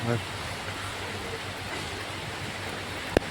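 Heavy rain falling at the Kottiyoor temple festival, a dense, steady hiss of downpour throughout, with a brief voice at the start and a sharp knock near the end.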